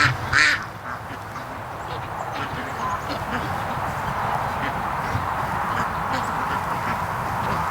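Free-range ducks quack while grazing outdoors, a few clear calls near the start over a steady rustling background of the flock moving and feeding.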